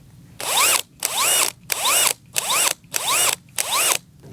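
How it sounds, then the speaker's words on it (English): A handheld power drill fitted with a bulb-planting auger bores into garden soil in six evenly spaced bursts, each rising in pitch as it revs, with short pauses between, close and loud. "So this is the smaller drill, and this one is the bigger one."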